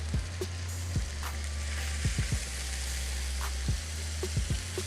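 Beef patties searing on a lightly oiled grill for an In-N-Out style burger, a steady close sizzle with a low hum beneath and a few sharp scraping taps scattered through.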